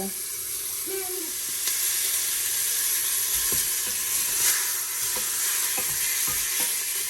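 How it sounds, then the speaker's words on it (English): Jamaican brown stew turkey neck sizzles steadily in a pot, a continuous hissing crackle with a few faint clinks and taps underneath. "that sizzle, amazing."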